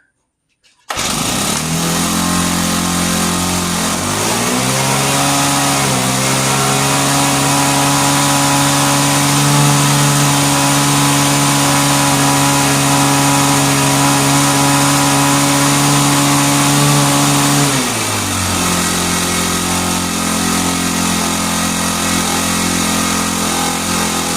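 A vintage Hot Wheels gas go-kart engine starts and runs loud and close, holding a steady buzzing idle before briefly revving higher and settling back down.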